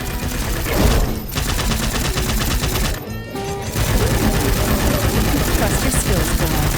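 Gunfire from weapons in a boomer shooter game: loud, dense rapid-fire bursts that run almost continuously, broken by two short pauses, with heavy game noise underneath.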